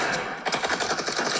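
Automatic gunfire from the mobile game PUBG rattles in a quick, loud burst of closely spaced shots, heard briefly and alone.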